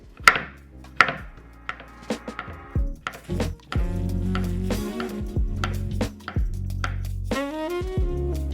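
A knife chops a cucumber repeatedly on a cutting board, starting with a few separate cuts, then speeding into quick, close rhythmic chopping.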